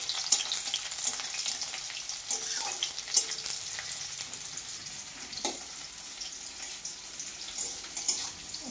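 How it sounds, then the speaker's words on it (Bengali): Onions fry in hot oil for a prawn and ridge gourd dish, a close, steady hissing sizzle with occasional scraping stirs and small pops, no voices over it. "তেল গরম হয়ে গেছে, এবার আমি পেঁয়াজ দিছি। পেঁয়াজটা এইভাবে একটু চালাবো।"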